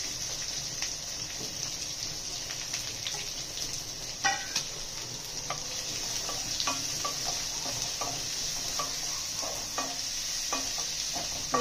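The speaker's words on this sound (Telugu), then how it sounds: "వీటిని మంచిగా ఫ్రై చేసేసుకోవాలి." Onions and chillies frying and sizzling in a pan at home, a steady low crackle with occasional stirring scrapes and small pops, close and moderately quiet, with no talking.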